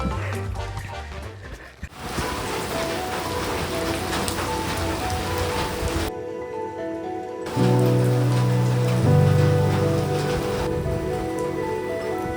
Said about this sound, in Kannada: ಕಂಟಿನ್ಯೂಸ್ ಆಗಿ 45 ನಿಮಿಷ ಮಳೆ ಬಂತು ಅಂತಂದೆ ಮತ್ತೆ ಸ್ಟಾರ್ಟ್ ಆಗ್ತಾಯಿದೆ.